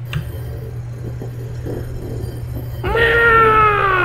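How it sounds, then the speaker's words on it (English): A cat meows in the Night in the Woods video game: a drawn-out, loud, pitch-sliding cry near the end, after quieter faint noises. "Meow! Meow!"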